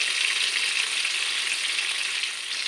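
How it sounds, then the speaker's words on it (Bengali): Pieces of katla fish fry in hot oil in a pan, a dense, even sizzle that holds steady and close throughout, with no talk. "মাছগুলো দেখুন ভাজা ভাজা হয়ে গেছে"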